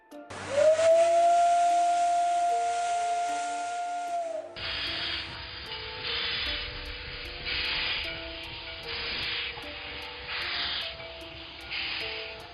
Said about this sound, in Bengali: হঠাৎ শোনেন ইঞ্জিন হুইসেল দিল